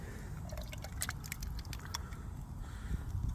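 Leftover liquid from a ravioli camping meal pours into a cup, a faint uneven trickle with small drips and splashes, heard close against a low outdoor rumble.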